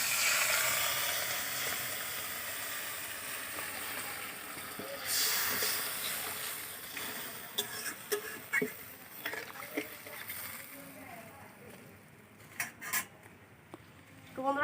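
Water is poured into tomato masala frying in a pan, giving a loud hiss and sizzle that fades into steady simmering, with occasional clinks of utensils against the pot.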